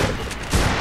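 Gunfire from the video game MAG, a short dense burst of shots with a booming low end, loud and close, no voice over it.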